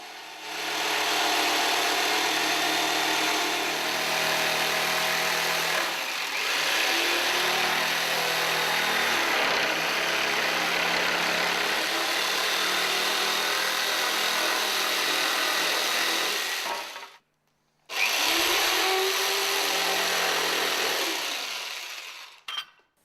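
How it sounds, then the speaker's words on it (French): A jigsaw whines steadily through a wooden model railway track platform for about seventeen seconds, stops briefly, then resumes cutting before winding down. "La plateforme de voie est ensuite découpée à la scie sauteuse"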